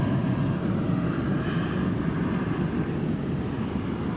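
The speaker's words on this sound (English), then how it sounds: "an American Airlines 737 coming your way, flight 1473 off to Oklahoma City." An American Airlines Boeing 737 at DFW Airport gives off a loud, steady jet roar. It fills the whole stretch as one continuous rumble with no gaps.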